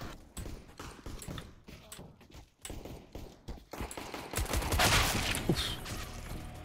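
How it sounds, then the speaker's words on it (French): Video game gunfire crackles in rapid, irregular bursts of sharp shots, growing denser and louder toward the end, with no talk over it. "Il y avait des tirs de partout"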